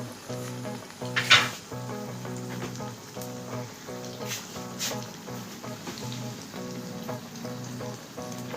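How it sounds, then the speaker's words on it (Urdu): Bread pizza cooking in oil in a covered pan over a very low flame, a soft continuous sizzle and crackle with a brief louder spit, heard close under faint background music. "اس کو بالکل سلو فلیم پہ جسے ہم دم دینے کے لیے رکھتے ہیں ایسے رکھ کے اس کو پکنے دیں۔"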